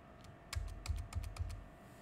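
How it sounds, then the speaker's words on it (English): A handful of quick keystrokes on a computer keyboard, about five clicks in an uneven burst, close and fairly quiet against a faint room hum, during Excel work. "Let me type it in"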